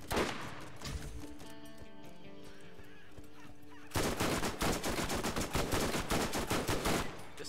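Hyperion spy gun firing in Borderlands, a dense run of rapid shots that grows louder and steadier in the second half, laid over a tonal game music bed.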